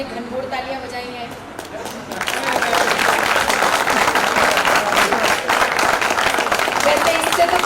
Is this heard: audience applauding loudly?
yes